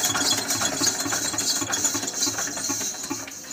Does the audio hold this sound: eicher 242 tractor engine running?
yes